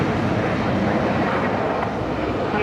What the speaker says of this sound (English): There's Qatari just coming onto the international apron now.